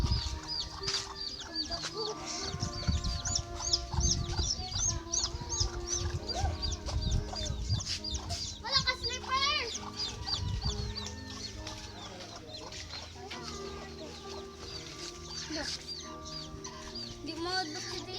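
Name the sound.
baby chicks clucking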